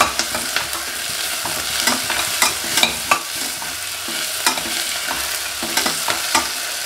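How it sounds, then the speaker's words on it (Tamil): Tomatoes sauté in a pan for a potato and peas kurma, giving a continuous soft sizzle broken by frequent scraping stirs of a spoon against the pan, with no voices. "தக்காளி கொஞ்சம் வதங்கட்டும்."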